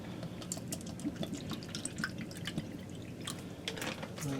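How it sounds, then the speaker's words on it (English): Water poured into a little bowl splashes and trickles in irregular drips and gurgles, close up and fairly quiet, with no voices. "I've got some water I'm going to put in this little bowl."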